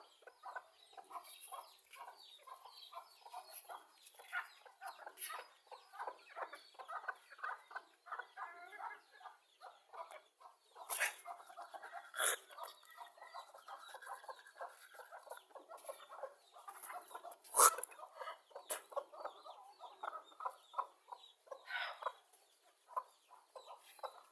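Backyard desi hens, one red and one white, cluck steadily at close range while squabbling over scattered rice, with a few sharper squawks and calls punctuating the busy, continuous clucking.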